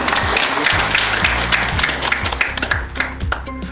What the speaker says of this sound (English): You all could clap, you know.